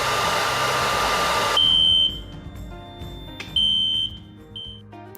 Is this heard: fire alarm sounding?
yes